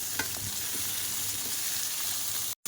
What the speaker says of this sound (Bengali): ওল দিয়ে দেবো লবণ হলুদ না দিয়ে ভালোভাবে কষাই করবো